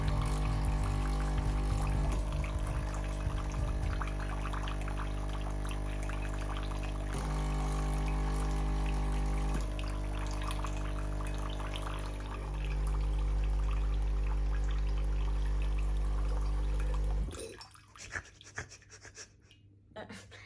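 A Nespresso Essenza Plus coffee machine pumps water through its descaling rinse cycle, a steady loud mechanical hum with shifting tones and a few step changes, running for about seventeen seconds before cutting off into quiet room noise.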